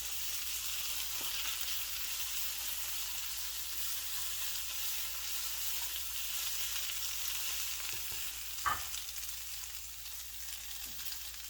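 Spinach sizzling in a pan with a little olive oil, a continuous even crackling hiss held throughout, with a single faint knock partway through, no talking.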